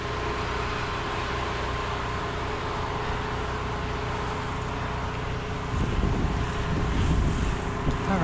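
A pressure washer gun sprays steadily onto roof caps during roof cleaning, a constant broad hiss that grows rougher and splashier toward the end, with no talking.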